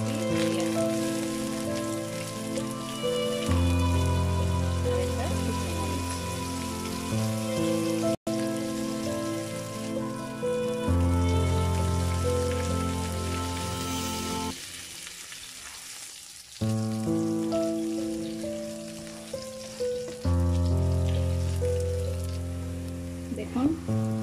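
Chopped onion and garlic with whole cumin and five-spice sizzling in hot oil for tempering in a rice cooker, a steady close frying hiss that briefly drops out mid-way over background music.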